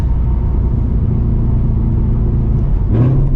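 A 486 hp S650 Ford Mustang GT engine in drag mode roars steadily at high revs, then climbs sharply in pitch near the end as it accelerates through a second-to-third gear shift, loud and close.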